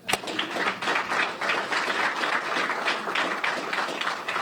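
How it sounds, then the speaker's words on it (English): Audience members at a police department press briefing clap together in a steady, dense patter that rises quickly and keeps an even loudness throughout, with no speech over it. "You can clap for yourself."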